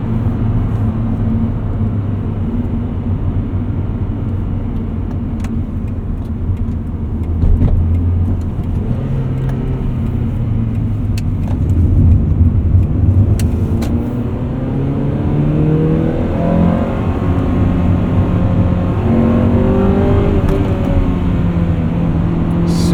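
A 1999 Honda Prelude Type SH with a five-speed manual, heard from inside the cabin as the engine climbs through the revs into VTEC, a steady loud drone that rises in pitch toward the end.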